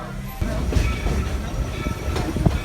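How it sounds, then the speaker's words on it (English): A train rolls into Main Street Station, a steady low rumble of wheels and cars with faint clacking throughout, moderately loud and continuous with no talk over it. "As we pull into Main Street Station, I just want to remind everyone to please remain seated until the train comes to a rolling complete stop"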